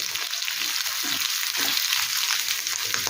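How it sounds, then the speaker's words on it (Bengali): Steady, loud sizzle of potatoes frying for jeera aloo in a hot pan over medium-high flame, a bright continuous hiss with faint clinks of stirring underneath. "আলুটা একটু ভাজা ভাজা করে নেব।"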